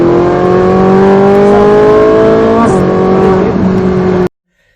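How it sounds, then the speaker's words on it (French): A loud, close Ferrari 458 Italia engine revs hard with a steady high-pitched roar and a brief pitch dip, cutting off abruptly at the end. "Ah, le bruit de la Ferrari, il est juste monstrueux."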